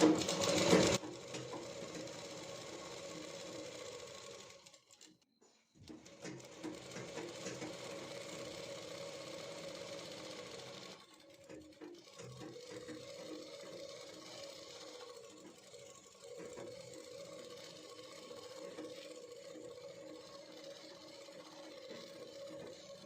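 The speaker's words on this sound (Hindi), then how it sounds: "तो इस तरीके से हमने यहाँ पे सिलाई को लगा दी है।" Sewing machine stitching lehenga panels for a Rajputi suit, running in a fast steady whir with a brief pause and restart, close and fairly quiet.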